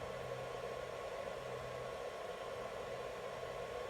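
A small solar-powered air conditioner running on a 100-degree day, a steady close broadband whoosh of blowing air with a faint low hum underneath, unchanging from start to finish.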